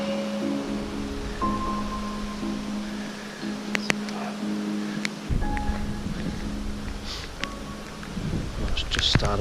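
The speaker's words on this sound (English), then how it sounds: "It's just started to rain or drizzle" Light rain pattering steadily outdoors in alpine country, with occasional sharp taps and drips and a low rumble in the background.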